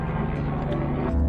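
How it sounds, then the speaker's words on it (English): A steady low helicopter rotor drone rumbles close by, continuous and fairly loud, with voices faintly mixed underneath, on the Kepler Track, New Zealand. "That's a helicopter."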